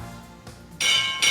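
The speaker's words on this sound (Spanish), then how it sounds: "Suena la campana." A bell struck twice in a studio, each hit a bright, sustained metallic ring entering abruptly, the second following closely after the first.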